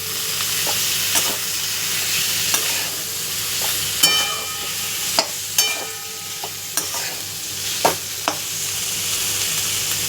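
Bitter gourd mixed with dal in a hot pan, a continuous sizzle punctuated by a dozen crisp spatula scrapes and clinks against the metal at an uneven rhythm, close and fairly loud, no talking.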